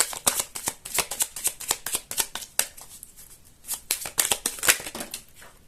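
Playing cards are shuffled and handled up close in quick repeated riffles and flicks, a busy rapid patter that is fairly quiet.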